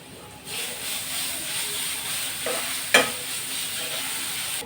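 Onion and garlic paste fries in hot oil with a steady, close sizzling hiss that starts after a short quiet moment and runs throughout, broken by one sharp stir or clank near the end.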